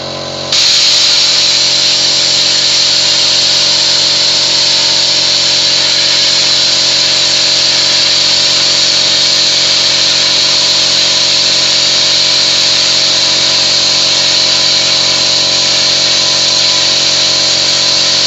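An OLIVER CUT-70 plasma cutter at full power slices 15 mm steel plate, giving a loud, steady, high-pitched hiss and roar that starts abruptly and holds unbroken for the whole stretch, with no talking.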